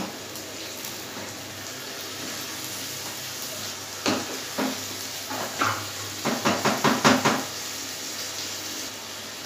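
A spoon scrapes and clinks against a pot while rice ingredients with chicken are stirred for mutanjan rice, a quiet run of rhythmic knocks in the middle and a faster cluster near the end over a low hum.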